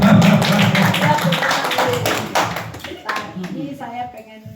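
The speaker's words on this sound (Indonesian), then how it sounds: "Tepuk tangan dong." A small group claps in a presentation about a Klink smart plan, a short burst of hand claps mixed with chatter and voices that fades as talking takes over.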